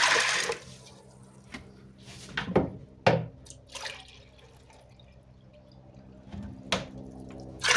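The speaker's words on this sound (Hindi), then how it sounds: "अब इसमें हम पानी डालेंगे इतना जिसमें ये गल जाए।" Water goes into a pressure cooker of washed dry chickpeas in a home kitchen, heard as a few separate splashing, dripping bursts with quiet gaps between them.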